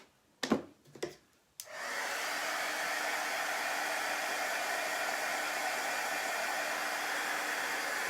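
A hair dryer dries chalk paste on a Chalk Couture transfer, starting after a few clicks and clunks, then a steady close whooshing roar that runs on unchanged.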